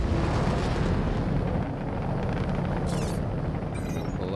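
A torpedo launched from a spaceship in a space combat game: a sustained loud rushing roar with a brief bright whoosh partway through and a faint chirping burst near the end, no talk.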